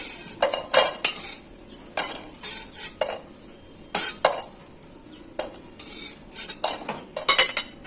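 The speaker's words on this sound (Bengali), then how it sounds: "আলুগুলো ভাজা হয়ে গেছে, এখন তুলে নিচ্ছি" Fried potatoes are lifted out of a pan with a metal utensil, giving repeated sharp scrapes and clinks against the cookware in an irregular rhythm, close and fairly loud.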